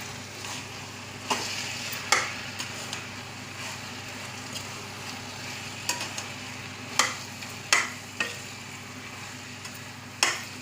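Mushrooms sauté in a pan of spiced oil for South Indian mushroom biryani, a steady close sizzle broken by sharp scrapes and taps of a spoon stirring against the pan.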